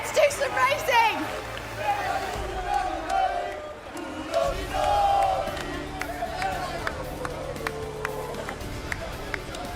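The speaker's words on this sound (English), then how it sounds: "Have you ever heard a crowd like it?" A large crowd roars and cheers at a GT World Series sim-racing event in Milan while an amplified voice talks over the noise.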